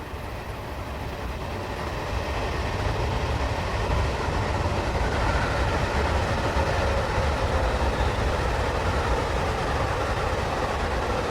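A British Rail Class 321 electric multiple unit in Train Simulator 2021 passes a lineside spot, a continuous rumbling roll of wheels on rails that builds after two seconds and stays steady and fairly close, with no voices.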